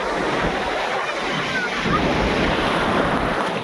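Sea waves surge and break continuously at Digha beach while strong wind buffets the microphone, a loud, unbroken roar with no distinct voices.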